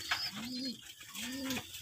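Pigeons in a loft give two clear, rounded coos in a slow, even rhythm, close by with soft background noise.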